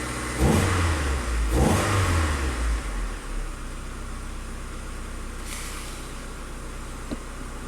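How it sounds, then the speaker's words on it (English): A Saturn car engine with a crank no-start fault is revved twice in quick succession, each rise a close, loud surge of rpm, then settles back to a steady idle. "Raise the RPM just a little bit."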